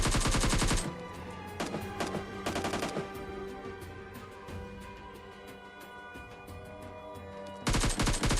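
Gunfire in the mobile game PUBG Mobile Lite: loud automatic bursts open and close the clip, with scattered single shots and quieter rattles in between.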